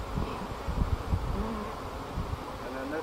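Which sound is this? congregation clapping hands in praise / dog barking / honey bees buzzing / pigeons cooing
honey bees buzzing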